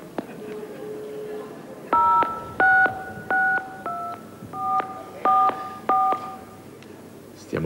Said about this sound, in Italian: proviamo a fare la telefonata al tuo marito, la telefonata vera